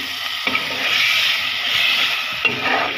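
Chicken pieces go into a pan of fried turmeric and ground spices for a home-cooked chicken and potato curry, setting off a steady loud sizzle with stirring scrapes throughout and a fresh surge of frying near the end.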